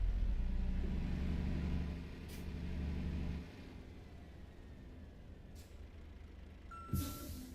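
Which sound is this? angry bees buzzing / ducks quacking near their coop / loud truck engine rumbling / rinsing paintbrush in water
loud truck engine rumbling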